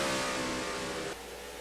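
A race car in a video game race screams at near full throttle into a corner, a loud, steady engine drone that drops slightly in pitch partway through.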